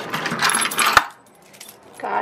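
Garden keys jingle and clink in a quick metallic burst with one sharp clack, fairly close and loud, then fade to near silence before a brief rustle.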